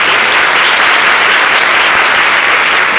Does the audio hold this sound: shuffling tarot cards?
no